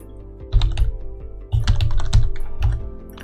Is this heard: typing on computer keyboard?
yes